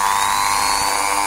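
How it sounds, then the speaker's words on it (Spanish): A small power sander works down a part while fitting Greddy gauges in a VW Golf IV, giving a brief, steady, close-up whine. "Ahora le vamos a poner la pequeña lijadora esta para simplemente bajar un poco."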